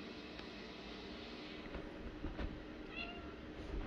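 A single faint, short meow from a cat rises briefly over a steady low rumbling background.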